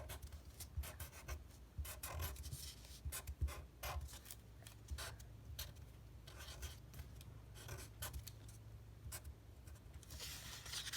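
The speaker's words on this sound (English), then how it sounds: "right now I'm just gonna write thank you." A pen writes "thank you" on a Father's Day paper craft, giving close, scratchy strokes in quick bursts with short pauses between letters.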